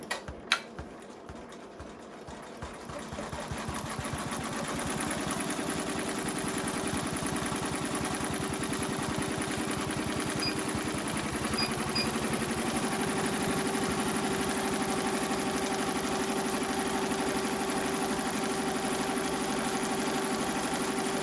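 An embroidery machine sews a satin stitch around the center of a sunflower key fob, a steady rapid mechanical whirring and needle chatter that runs continuously after a few sharp clicks at the start.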